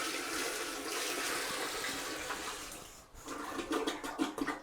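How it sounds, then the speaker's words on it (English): A toilet is flushed by pouring a bucket of water into the bowl during a bathroom makeover: a steady, close rush of water that drains and then breaks into gurgles and sloshing splashes. "I've got a bucket of water with me, and just like the old-timey toilets, we're going to pour it, lift up,"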